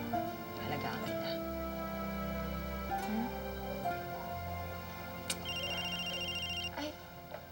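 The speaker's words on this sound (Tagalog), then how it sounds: "tumutunog yung telepono" A telephone rings in a home with repeated electronic tones, coming in and out under people's voices.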